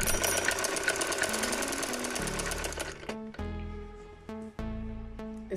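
A sewing machine stitching a shalwar runs in a steady, rapid mechanical whir with a rhythmic needle clatter, close and loud, pausing briefly and then restarting in short bursts.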